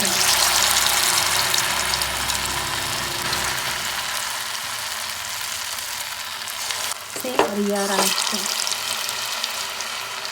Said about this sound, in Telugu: ఇదిగో ఇవి డీప్ ఫ్రై చేసి